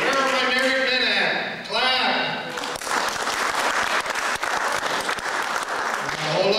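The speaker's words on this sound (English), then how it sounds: "There was less clapping on the men's side." Married men in a comedy theater audience give a round of clapping on request, moderately loud and scattered, following the comedian's voice at the start and continuing under his talk.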